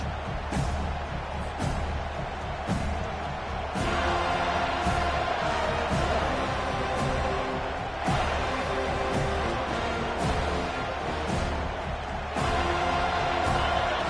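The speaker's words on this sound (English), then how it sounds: "This crowd trying to show them what it's going to be like all day in this house." A college football stadium crowd at a Florida versus Florida State game keeps up a dense, steady roar with cheering throughout, with sharp claps or bangs popping out now and then.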